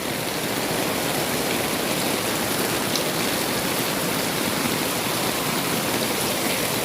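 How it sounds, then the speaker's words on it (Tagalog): Heavy rain pours down steadily as a dense, even roar with no pauses, close and loud throughout, with no voices. "Sobrang yung lakas ang ulan mga mi."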